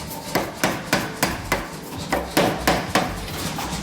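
A hammer strikes hot feather-pattern Damascus steel during forge welding, about ten evenly spaced, loud, ringing blows close by.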